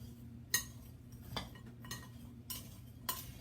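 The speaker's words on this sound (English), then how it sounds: "I'm going to sprinkle it over our berries. And then it calls for us to mix them up." A utensil taps and clinks against a bowl as berries are stirred with sugar, with a handful of sharp, quiet knocks spaced about a second apart over soft background hiss.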